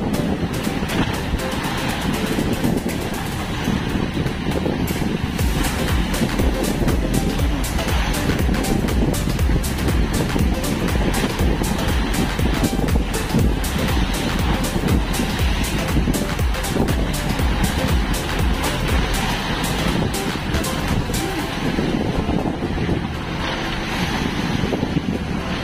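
Strong wind buffets the microphone continuously while rough waves slap and churn nearby, a loud, relentless roar with no talking.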